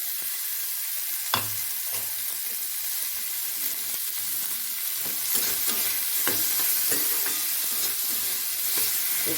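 Chopped vegetables with kasuri methi and onion fry in a pan, a steady close sizzle with scraping stir strokes and a few sharp clinks, growing slightly louder toward the end.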